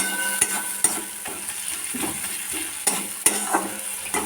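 Potatoes frying in a pan of hot oil and spices, a steady close sizzle broken by repeated stirring and sharp scrapes of a spatula against the metal.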